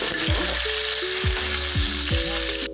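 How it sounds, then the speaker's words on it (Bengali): Salted potatoes frying in a pan give a steady, loud sizzle. Several sharp scrapes come from a spatula stirring them. "দিয়ে একটু নেড়ে চেড়ে আলুটা ভালো করে ভাজা"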